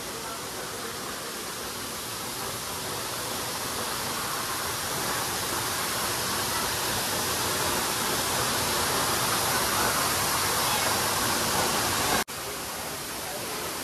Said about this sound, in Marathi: हे वॉटरफॉलचं पाणी।